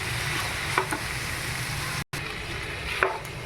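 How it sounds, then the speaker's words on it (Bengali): Potato and cauliflower fry with spices in a pan, a steady close sizzle broken by a couple of scraping stirs and light clacks of a spatula. "এখন দিয়ে দেবো আলু আর ফুলকপি, দিয়ে মশলার সঙ্গে ভালো করে ফুলকপিটা এখন আস্তে আস্তে করে কষিয়ে নেব।"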